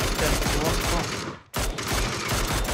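Rapid bursts of automatic gunfire from an online PUBG match in an esports qualifier, dense and loud, broken by one brief pause, with commentary voices under the shots.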